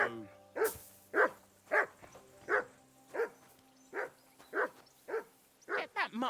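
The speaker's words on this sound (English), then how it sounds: "Get that mutt of yours to stop barking, will you?" A dog barks repeatedly in the video game Kingdom Come Deliverance II, with about eleven evenly spaced, mid-pitched barks in a steady rhythm, close and clear over a faint low hum.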